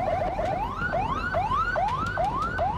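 An ambulance escort vehicle's siren wails loudly and close, its pitch sweeping up and dropping in a fast repeating cycle with no pause.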